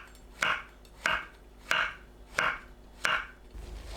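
Shiitake mushrooms being sliced 0.5 cm thick with a knife, five crisp, evenly spaced cuts landing on a cutting board, close and clear with no talking.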